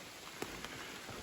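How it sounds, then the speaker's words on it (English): Rain falls steadily on the North Country Trail near Sugar Bay, a soft, even patter with a couple of brief louder drops standing out against the faint wash. "The rain does seem to be letting up some"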